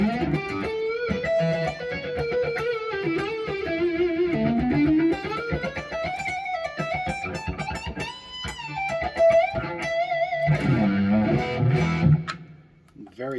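A Harley Benton AT 24 TBK headless electric guitar on the neck pickup, played through effects with a full hum. Loud, sustained melodic lines with gliding, bending notes ring out continuously, then fade at the end.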